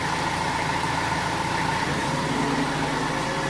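A boat engine chugs steadily while cruising on the Norfolk Broads, a constant mid-pitched drone with a faint hum, running alone without speech.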